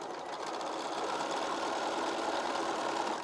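A sewing machine runs steadily, stitching a 1/4 inch seam through fabric in one continuous, even whir with no pauses and no voices.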